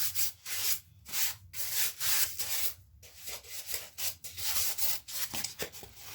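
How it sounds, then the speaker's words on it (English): Dry rubbing and scraping strokes in uneven bursts, close up, as fingertips sand the rough edge of a tabletop wargame blast crater model, with brief pauses between passes. "You're essentially sanding this with your fingers."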